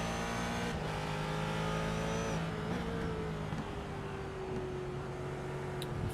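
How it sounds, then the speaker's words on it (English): GT race cars howl in a sim racing game at Thompson Speedway, several engines droning and shifting pitch together, with an upshift and steady wailing tones from cars running close in a pack. "Jump in the cockpit here with Steve as he's got a couple of cars ahead of him"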